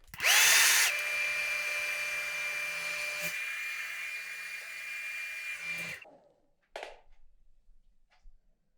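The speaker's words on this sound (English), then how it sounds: "I take the heat out of the hair on the cold setting of the hair dryer" A hair dryer blows steadily on a beard, loud and close with a whining tone, then cuts off near six seconds, followed by a brief rustle and a few faint clicks.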